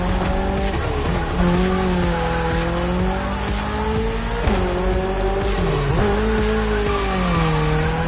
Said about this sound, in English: You should be ready for anything with that Toyota GR86.